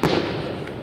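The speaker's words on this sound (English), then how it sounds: "It's the firework." A single loud firework bursts up close on the Fourth of July, its sharp crack trailing into a long rumbling decay.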